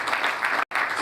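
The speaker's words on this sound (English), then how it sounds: "A big round of applause" Audience applause at an annual scientific conference of a medical sciences faculty, a brief burst of crowd clapping in a hall, briefly cut off by a gap before resuming.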